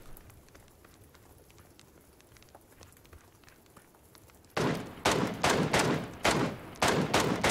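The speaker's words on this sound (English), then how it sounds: "They're shooting at someone too" PUBG video game gunfire: faint distant shots and rattles at first, then a loud close burst of several rapid gunshots in quick bursts, with no talking.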